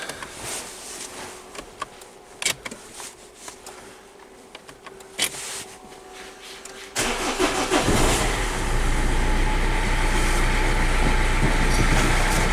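A Renault Megane, after an injector fault, cranks and fires into life, jumping from a quiet, intermittent sound to a loud, steady engine run heard close up that holds for several seconds with no talk.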